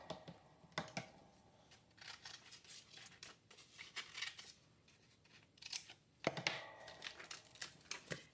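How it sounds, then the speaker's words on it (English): Small scissors snipping around a glued paper piece while adding pockets and tags in a craft project, quiet close crisp snips in irregular bursts with paper rustling between cuts. "I'll just use my little scissors to cut around it"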